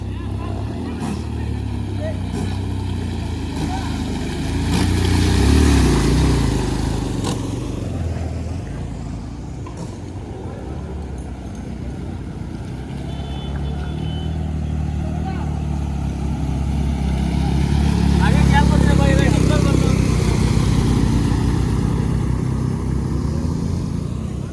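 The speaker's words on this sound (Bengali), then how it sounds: "ও এদিক দিয়ে আরো তিনটা বাইক একসাথে, চারটা বাইক একসাথে আসছে," Several motorbikes rumble through floodwater on a submerged road, their engines swelling as they pass close, fading, then surging again, while someone talks over the drone.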